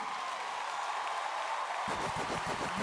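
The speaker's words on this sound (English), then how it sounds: "Y'all keep clapping for that" Quiet audience clapping at a stand-up comedy show, faint and distant at first, then a burst of closer, rhythmic claps in the final second.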